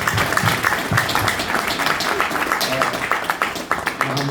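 An audience claps at a graduation ceremony at a Black cultural center, a loud, steady burst of applause filling the whole moment with a few voices mixed in.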